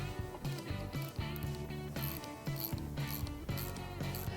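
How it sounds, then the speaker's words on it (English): Ratchet wrench tightening the fastener on the negative battery cable terminal of a 2014 Volkswagen Passat, giving a close, fast run of repeated mechanical clicks in short bursts over a steady background hum. "reinstall the negative battery cable onto the negative battery terminal and retighten the fastener"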